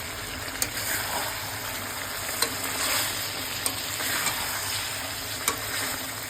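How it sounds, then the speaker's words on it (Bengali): Chicken curry with potatoes sizzles steadily in an oily pan while being stirred, with a continuous frying hiss and occasional light clinks of the spoon against the pan. "ভালো করে একটু কষিয়ে নেব।"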